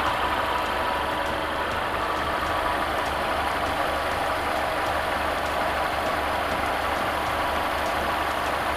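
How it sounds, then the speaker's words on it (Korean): A Mercedes-Benz E350 4MATIC AMG Line hybrid sedan from the W213 E-Class idles with the engine bay open, producing a steady, even hum with a constant low rumble throughout and no voices. "엔진 소리 일정하네요."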